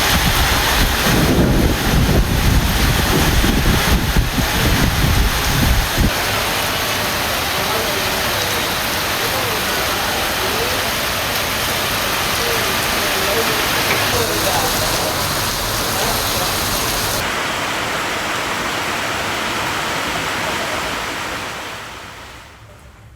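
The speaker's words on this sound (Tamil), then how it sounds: "தற்போது பலத்த காற்றுடன் கூடிய கனமழை பெய்து வருகிறது." Heavy rain driven by strong wind roars steadily outdoors, with loud gusts buffeting the microphone and a dense hiss of downpour throughout, easing toward the end.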